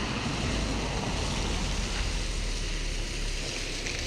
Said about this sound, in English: The river is flowing, but it's rising, but it's not on the road.